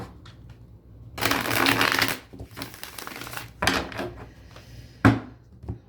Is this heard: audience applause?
no